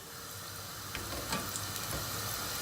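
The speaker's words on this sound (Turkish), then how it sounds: "Unladığımız gibi zaman geçirmeden direkt yağın içine atıyoruz." Floured chicken livers drop into a pot of hot oil and fry with a quiet, even sizzle, broken by a few small pops and crackles.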